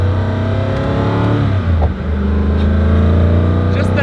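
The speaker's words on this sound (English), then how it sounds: "The noises this car makes is just ridiculous." A Koenigsegg Agera RS hypercar engine roars loudly and close, revving with rising and falling pitch, its deep growl filling the cabin.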